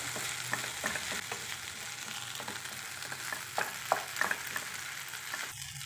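Okra and potato fry with curry leaves being stirred in a pan, a steady soft sizzle broken by repeated scraping strokes of the spoon, close and fairly quiet, with no talking.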